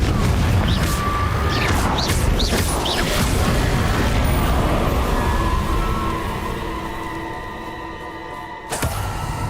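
A Confringo fire spell bursts with booming blasts in Hogwarts Legacy, several heavy rumbling explosions early on over a dense, continuous roar of game noise that slowly thins out before one last sharp crack near the end.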